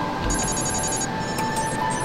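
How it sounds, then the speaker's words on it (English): A telephone rings in the video game Afterfall Insanity, a bright electronic trill sounding in a burst over a steady humming game background, with no talk over it. "Someone pick up that phone."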